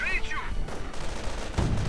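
Autocannon on an armored car hammering at riflemen in a wartime strategy game, rapid bursts of gunfire rattling loud and close with a sharp heavy blast near the end, all under a commentator's voice.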